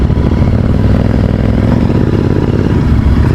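A Royal Enfield Continental GT 650 motorcycle fitted with an aftermarket exhaust rumbles loudly and continuously at close range as it is ridden, with a deep, throaty note and a slight clattery texture.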